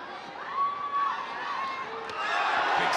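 Arena crowd at a ONE Championship bout featuring Superlek against Rui Botelho, a steady roar of cheering and shouting that swells louder toward the end, with a whistle-like tone riding over it.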